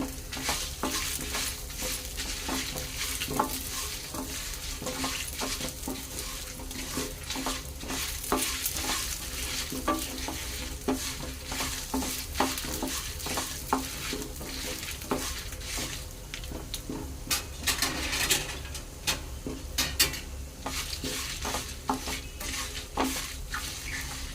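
Dried red chillies frying in hot oil on medium heat, a continuous close sizzle broken by frequent scraping stirs of a spoon against the pan.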